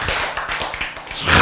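A church congregation claps hands together, a quick burst of sharp, fairly loud claps over about a second and a half.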